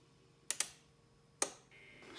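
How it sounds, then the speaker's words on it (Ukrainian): Bypass relay inside an Altek PowerEdge AL 600 portable power station under repair, clicking sharply a few times at irregular intervals, near and crisp in an otherwise quiet room. "То вона байпасом клацає."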